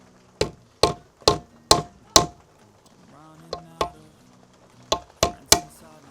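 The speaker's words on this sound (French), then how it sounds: "avec le tournevis, je tape dessus pour la déformer" A screwdriver strikes a metal ring on a 100NX motorcycle to deform it, making a run of five sharp ringing taps, then a pause and three more close, metallic knocks with brief resonant decay.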